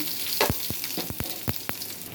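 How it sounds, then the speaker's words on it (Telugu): Onions hit hot oil as tempering for rasam, giving a close, steady sizzle broken by a handful of sharp crackling pops. "కొంచెం నూనె పోసి తాలింపులు వేసాను ఫ్రెండ్స్ అది చిడపట్టమన్నప్పుడు ఉల్లిపాయలు వేసేస్తాను"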